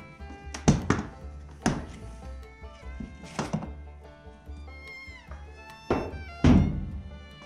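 Thumps and clunks of an Apache hard case being unlatched and its lid opened, a few sharp knocks and rattles spread over several seconds, close and fairly loud with no talking.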